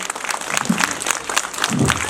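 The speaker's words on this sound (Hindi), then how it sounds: "बच्चों के लिए तो बहुत ज़ोर से तालियां होनी चाहिए।" Loud, steady applause for a children's dance at a Christmas 2021 celebration at a church in Dehradun, a dense crowd clapping continuously without a break.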